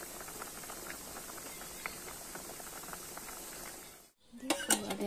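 Homegrown maize simmers in a pot, giving a steady bubbling hiss with faint popping for about four seconds before it cuts off and a few clattering, louder sounds follow.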